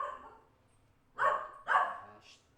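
A dog barks twice in quick succession, fairly close and clear, after a softer earlier sound, in an otherwise quiet indoor setting.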